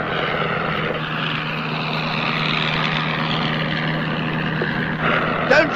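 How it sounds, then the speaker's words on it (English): An Avro 504 biplane drones steadily in flight on a first instructional flight, a continuous loud engine and propeller roar with no break. "airborne within a couple of days on his first instructional flight in an Avro 504"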